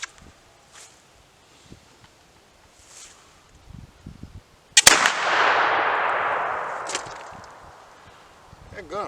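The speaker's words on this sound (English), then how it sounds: "pretty quick shooting flintlock right there" A single sharp flintlock rifle shot from a Tennessee poor boy rifle rings out midway after quiet rustling, followed by a long decaying rumble and echo.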